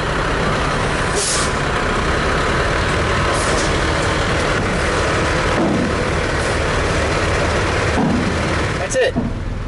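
A Kenworth T880 dump truck idles loudly while dumping into a spreader box, its engine a constant rumble punctuated by several short hissing bursts of air brake release.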